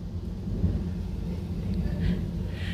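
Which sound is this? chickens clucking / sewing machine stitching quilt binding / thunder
thunder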